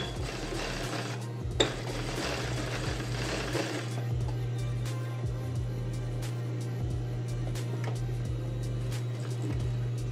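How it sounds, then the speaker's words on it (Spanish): A sewing machine topstitches over a men's trouser pocket, its steady motor hum running under rapid, even needle ticking for the whole stretch, with a louder rush of noise in the first few seconds; no one speaks. "Termino la costura y paso un pespunte sobre el bolsillo."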